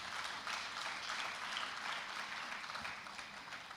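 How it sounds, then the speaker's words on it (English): Audience at the opening ceremony of the African Union MSME Forum 2025 applauds in a sustained, even wash of clapping heard from a distance, fairly faint and without speech. "Please, I think it deserves a resounding applause."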